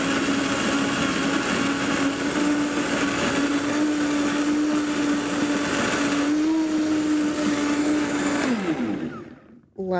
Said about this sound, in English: You put everything in the blender.